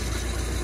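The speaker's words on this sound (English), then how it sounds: "this is just the boat running after the conversion" Boat engine idling steadily after a conversion from a mechanical fuel pump, a loud, continuous low rumble with even vibration throughout and no voices.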